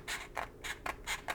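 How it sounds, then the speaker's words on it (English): Rhythmic rasping snips as scissors cut two thin strips of sandpaper, about six quick gritty cuts in steady succession, close up and quiet. "I'm going to cut 2 strips"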